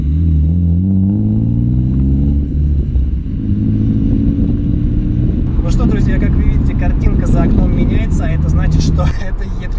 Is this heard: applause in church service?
no